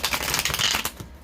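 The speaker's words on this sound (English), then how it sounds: "Let me shuffle some more." A quick riffle of playing cards being shuffled, a rapid fluttering burst up close lasting about a second.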